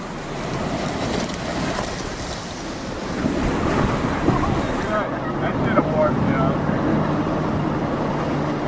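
Colorado River rapids in the Grand Canyon, a steep drop studded with boulders, roar as a loud, steady rush of churning whitewater with wind buffeting the microphone, growing denser midway and holding constant throughout.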